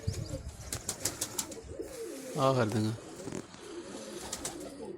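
Pigeons give a loud throaty coo close by, with brief wing flaps and someone talking before and after.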